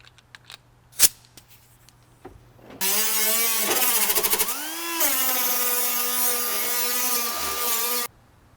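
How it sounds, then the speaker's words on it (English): An angle grinder smooths the cut metal edges of a van body, a loud steady high whine running for about five seconds with a brief pitch dip partway through, then cutting off abruptly. "grab your angle grinder or a sanding block and just smooth out all the edges that you missed."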